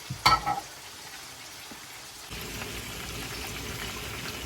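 A whole fish frying in a pan gives a brief clatter at the start, then a quiet lull, then a steady soft sizzle that rises and holds to the end.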